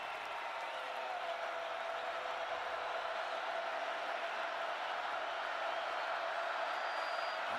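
A sellout stadium crowd at a 2012 Oklahoma Sooners versus Florida A&M Rattlers college football game roars in a steady, sustained wall of cheering and noise, broad and constant throughout with no pauses.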